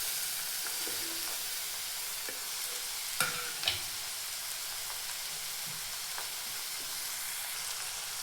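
Peeled, finely chopped ridge gourd drops into a hot pan and fries with a steady soft sizzle, a couple of sharp clatters from the spoon or pan midway, then continuous frying and stirring, no voices.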